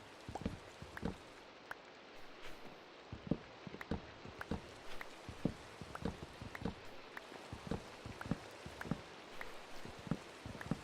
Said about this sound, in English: and it is raining, so don't think it's a thunderstorm